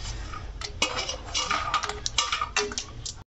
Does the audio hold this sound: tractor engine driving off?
no